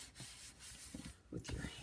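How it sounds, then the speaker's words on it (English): Hands rub and burnish paper while assembling a junk journal folio, giving short, soft scuffing strokes in a few brief bursts, close and fairly quiet. "give it a burnish with your hands"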